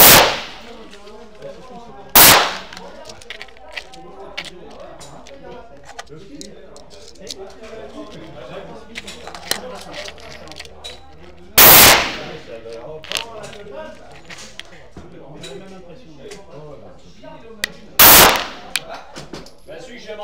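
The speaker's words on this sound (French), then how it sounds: "On va essayer ce petit pistolet." Bersa Thunder pistol fired at a gun shop event: three loud, sharp shots spaced several seconds apart, with quieter talk and shop background between them.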